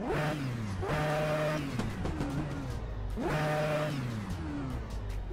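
A pistonless rotary engine fitted in a Chevrolet Omega drift car revs in two repeated blips, each rising sharply then falling back, loud and close with a raspy, buzzing tone and no talking over it.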